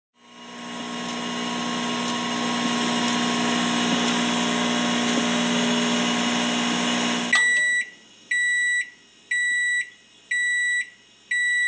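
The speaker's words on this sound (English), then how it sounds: "Microwave." A microwave oven runs with a steady loud hum and whir for about seven seconds, then stops and gives a series of repeated, evenly spaced beeps, close by with no voices.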